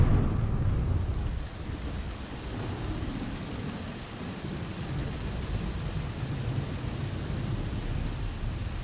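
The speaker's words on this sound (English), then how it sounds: "The late spring rain that still showed no signs of stopping after a week was beating down on the cab of my car." Heavy late-spring rain pounding on a car roof, a dense steady roar with a deep rumbling undertone, continuous and close with no voices.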